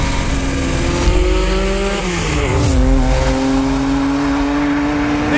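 A Porsche 962 Group C race car, road legal, roars at speed along public streets, its loud engine note climbing and dropping through gear changes with a brief tire squeal, steady and close throughout.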